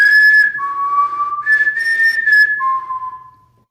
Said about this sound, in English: You don't have to turn it up too loud because you can definitely hear the whistles.